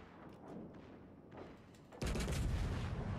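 Naval guns fire in the World of Warships Legends game, a few muffled distant thuds giving way to a sudden loud broadside blast that rolls into a sustained heavy rumble.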